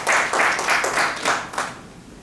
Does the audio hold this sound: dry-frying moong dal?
no